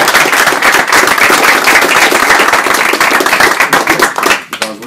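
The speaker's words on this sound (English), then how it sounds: "we need to applaud this exhibit" Loud, dense applause from an audience at a mayoral announcement in Omaha about Negro Leagues Baseball Museum exhibits, a sustained clatter of many hands that thins out near the end.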